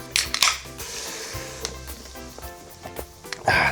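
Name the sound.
stirring chili in a pot after adding the beer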